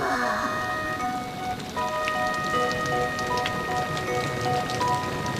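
Steady rain pours and patters on surfaces, with dense continuous drops and spatter running throughout alongside faint tonal sounds.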